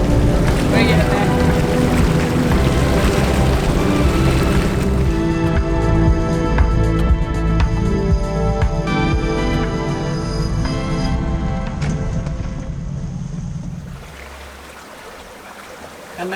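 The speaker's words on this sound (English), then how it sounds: "We've got the full main and we've got the engine pushing about as hard as it'll push" A steady sailboat engine drone, pushed hard against current under full mainsail, mixed with rushing water and wind noise, loud and continuous, easing off toward the end.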